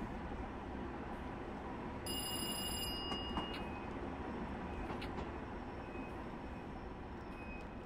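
A Long Island Railroad train running in a train simulator video game, a steady low rumble of rolling wheels and motors with a brief high electronic tone and light clicks, continuous and moderately quiet.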